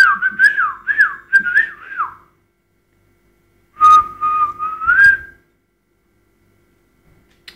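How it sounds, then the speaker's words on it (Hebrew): Someone whistles a wavering, warbling tune in two short bursts separated by a pause of silence, close and clear. "מי שורקת? היא שורקת"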